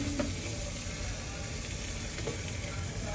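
A steady sizzle of onions and steak frying in a pan carries on throughout the clip, with faint scraping stirs and no voices.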